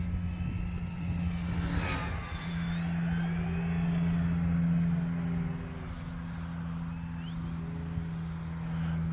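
An E-flite T-28 1.2 m radio-controlled model airplane flies on a wet day, its electric motor giving a steady droning hum that rises and falls slightly as it maneuvers at moderate distance, alone without talk.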